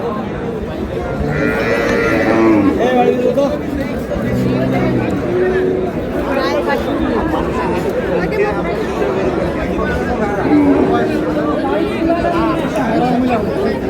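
A cow with her calf at a busy cattle market in Ambari haat, Dinajpur, with occasional moos rising from loud, constant crowd chatter and bargaining voices all around.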